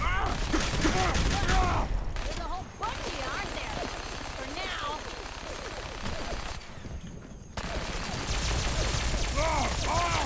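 Rapid bursts of charge-weapon fire in Fallout 4 ring out loud and close in dense volleys, broken by two short lulls, with chirpy electronic effects layered over the shots.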